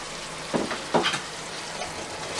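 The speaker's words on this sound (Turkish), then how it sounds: "Şimdi arpacık soğanlarımı koyuyorum" Shallots hit a pot of stewed meat and fry, giving a steady soft sizzle with two sharper bursts of crackle as they drop in, fairly quiet and with no talk.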